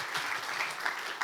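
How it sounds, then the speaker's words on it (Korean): An audience at a conference applauds to welcome a speaker to the stage, a short burst of steady clapping at moderate volume. "박수로 맞이해 주시면 좋겠습니다."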